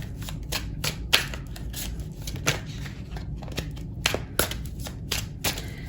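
Tarot cards being shuffled by hand, a steady run of crisp riffling and slapping card sounds, close and continuous, with no talking.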